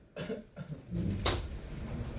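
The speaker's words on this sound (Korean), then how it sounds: "갑자기 기침이 나와." A single sharp cough cuts through a noisy classroom during a lesson, with faint voices and rustling around it.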